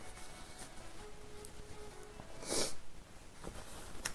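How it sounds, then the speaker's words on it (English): A quiet sharp sniffle or snort from a woman with the sniffles, one short nasal burst mid-clip against faint room noise, with a few softer breaths around it. "Sorry for the sniffles,"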